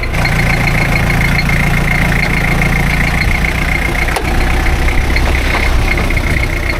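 A custom 1980s LN106 high-steer truck engine idles steadily just after starting, a continuous low, rough rumble heard close up with no talk over it.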